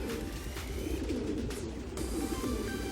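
Racing pigeons in a loft coo softly and continuously, with low murmuring calls, rustling and scattered movement close by, and no voices present.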